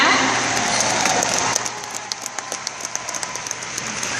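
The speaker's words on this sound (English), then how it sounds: "you can clap for that" An audience on a talk show set claps in a loud dense burst that quickly fades into a few scattered, separate claps trailing off.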